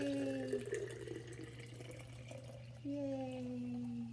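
Freshly made juice pours into a jar at close range, a steady liquid run with a brief pause before the flow resumes, over a faint background hum.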